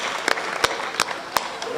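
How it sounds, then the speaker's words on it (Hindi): An audience at a Hindi kavi sammelan during a Mahaveer Janm Kalyanak festival claps. A soft bed of applause is punctuated by a few sharp, close individual claps, with some voices underneath. "एक बार तालियां बजा दीजिए।"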